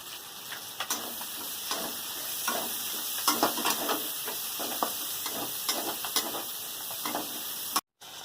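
Panch phoron, garlic paste and onion fry in hot oil for potol chingri, giving a steady loud sizzle with a constant hiss. Frequent scraping and clinking from a stirring spoon against the pan sit on top, close up, with no talking.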